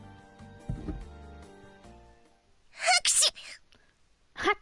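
A character in the Nekopara visual novel lets out a sharp sneeze, a couple of quick bursts close to the listener following a brief low thump, with quiet background music underneath.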